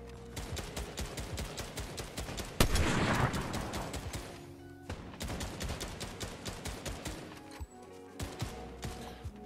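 Rapid bursts of gunfire in the video game Fortnite, sharp repeated shots crackling in quick volleys through most of the stretch, with one heavy blast midway and dense overlapping reports, no talking.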